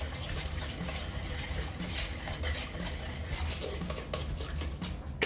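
Eggless coffee cake batter is mixed in a bowl, a continuous close whisking and scraping with light utensil taps throughout.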